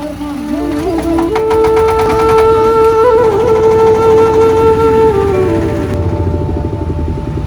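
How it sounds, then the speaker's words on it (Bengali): A trawler boat's engine running loudly at a traditional boat race, a steady droning hum with rising and settling tones and a rhythmic mechanical chatter throughout. "তো ভাই এখন ট্রলার চলবে।"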